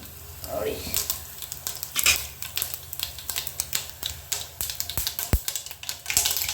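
Half a teaspoon of mustard seeds splutter and crackle in hot oil while egg masala is cooked, giving dense irregular pops and sharp snaps over a steady sizzle, close and fairly loud.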